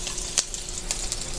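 Garlic added to onions sautéing in a pan for a coconut milk crab and squash dish: a soft, steady sizzle with a couple of brief scraping stirs, close and fairly quiet.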